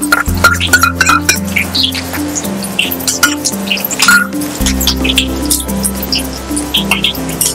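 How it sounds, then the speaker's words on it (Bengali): Grated ginger, garlic and green chilli fry in smoking-hot oil, giving scattered close crackles and wet pops under steady background music. "আবারও এগুলো লাল করে ভেজে নেব"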